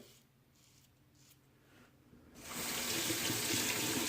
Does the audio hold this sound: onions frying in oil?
no